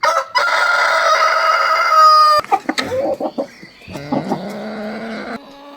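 A rooster crows loudly nearby, followed by chickens clucking and squawking in choppy bursts.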